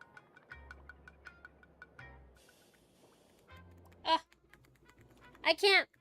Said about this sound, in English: I can't click the options on the keyboard